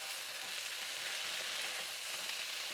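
Rice stir-frying in thickened sauce over medium-high heat, a steady dense hiss and sizzle with no break, close and even throughout.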